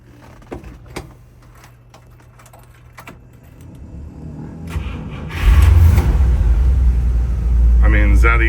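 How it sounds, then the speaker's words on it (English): A 1957 Buick Special engine cold-starts after a few quiet clicks and rustles, cranking into a deep, loud, steady rumble that holds to the end, with a voice briefly audible over it. "So let me get on that cold start"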